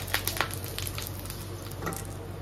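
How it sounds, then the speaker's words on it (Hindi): Steady sizzling of tempering spices in hot oil for an egg curry-leaf dish, a continuous crackling hiss with a few louder pops near the start, close by with no talking. "तो मैंने तड़का लगा दिया अंडे को,"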